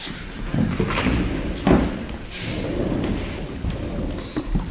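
Rain falls steadily during a town selectmen's meeting, with dull rumbles and thumps that suggest thunder. The hiss is loud and constant, with occasional louder bursts and no clear speech on top.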